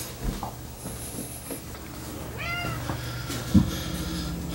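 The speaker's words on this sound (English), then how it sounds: "I've got cats everywhere that want to go out." Indoor house cat meowing a few times at close range, drawn-out cries rising and falling over faint household background noise, with no talking.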